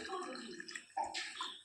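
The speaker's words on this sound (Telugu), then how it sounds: "4 టమాటాలకి 2 గ్లాసుల వాటర్ వేసుకుంటున్నాను." Water is poured from drinking glasses into a pot of tomatoes, a short close splashing gush in two bursts.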